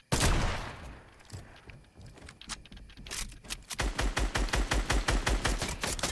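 Gunshots in Fortnite: a loud opening shot, then scattered single cracks, then a fast, evenly spaced burst of rapid shots near the end, all crisp and close with no talking.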